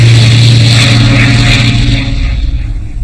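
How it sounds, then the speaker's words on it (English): A Spitfire fighter plane with a Rolls-Royce engine roars loud and steady, its deep engine drone holding strong before thinning slightly toward the end. "its remarkable aircraft, the Spitfire, with its Rolls-Royce engine, one of the best fighter planes in the world"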